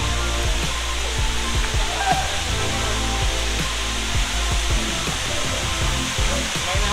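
Almécegas waterfall in Brazil's Cerrado, a dense, steady roar of falling water close by, continuous and loud with no talk.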